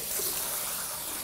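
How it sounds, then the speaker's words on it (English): Cool tap water rinsing a grill in a kitchen sink after cleaning off fish residue, a steady close hissing gush of running water throughout, no talking. "And then turn on the nice cool water and rinse"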